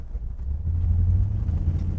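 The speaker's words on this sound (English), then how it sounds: "you know what the exhaust sounds like. It sounds amazing." A 1957 Chevrolet Bel Air restomod drives along a street with a deep, steady exhaust rumble, close and fairly loud, with some wind noise.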